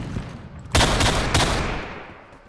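Gunfire in the video game Phantom Forces, with two loud, sharp bursts close together followed by a fading tail, clear and without talk.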